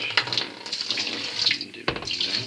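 Water pours and splashes in bursts while a washing machine's dryer is being cleaned, a close, gurgling, uneven flow with short gushes and a brief dip near the end, and no speech.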